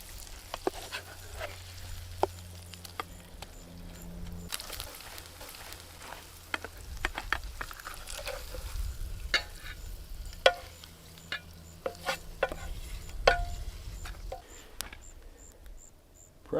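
Eggs and bacon frying in a pan at a solo campsite on an island, a soft steady sizzle running throughout with scattered clicks and utensil scrapes over it.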